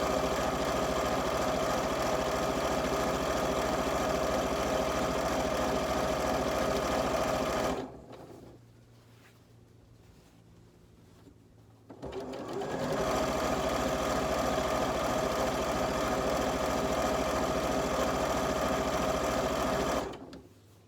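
A sewing machine stitches fabric strips together in long, loud, steady mechanical runs, stopping for a few seconds of near silence before starting again and running until the end.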